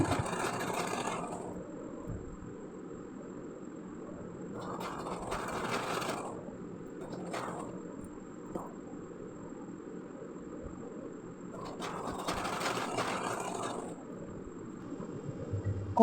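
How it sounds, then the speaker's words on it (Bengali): Sewing machine stitching the waistband of pajama pants, running in several short bursts of rapid mechanical whirring separated by quiet pauses, close and fairly faint. "একটু সেলাই করে নিচ্ছি।"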